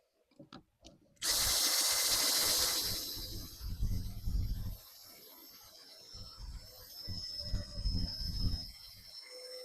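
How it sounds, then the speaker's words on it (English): A power drill bores into wood while a hall tree is built, with the workpiece set against a stop and clamped. One loud, close burst of drilling runs about a second and a half, then gives way to quieter workshop handling noises. "and then we drill."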